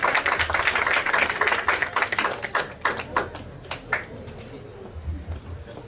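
Applause at a legal seminar as a doctor is welcomed, a brisk burst of clapping from a modest audience that thins into separate distinct claps and trails off within a few seconds.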